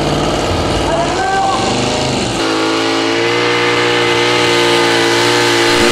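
A tractor engine at a tractor pulling competition roars loudly, its pitch climbing and wavering before dropping into a steadier, heavier drone; a commentator talks over the noise.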